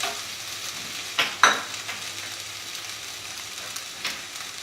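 Garlic rice stirred in a hot pan, with a steady low sizzle and a couple of brief scraping clinks from the spatula early on, close and fairly quiet.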